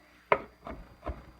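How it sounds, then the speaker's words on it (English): A kitchen knife rocks over olives on a wooden board, mincing them: three soft, close chopping taps spaced a fraction of a second apart, the first sharpest, with no talking. "just rock your knife on top of them"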